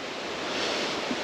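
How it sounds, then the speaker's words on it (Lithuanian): A mountain stream on a hiking trail in the Balkans rushes steadily, a continuous broad hiss of flowing water, close and fairly loud with no talk. "Upelis."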